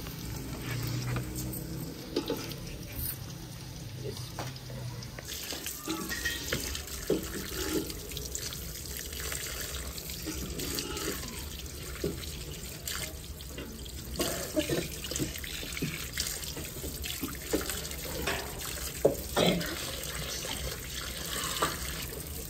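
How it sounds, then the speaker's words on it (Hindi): A kitchen tap runs steadily while raw chicken is washed, water splashing and pattering into a sink at close range, with occasional clatter and no talking. "फातिमा जो है ना अभी पढ़ाई से आई है तो वो हाँ चिकन धोआएगी जी"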